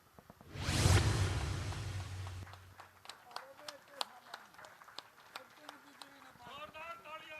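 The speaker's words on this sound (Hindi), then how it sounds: "जोरदार तालियां।" Loud burst of crowd applause at a Haryana political rally for CM Manohar Lal, swelling quickly and then fading into scattered claps, clicks and murmuring voices.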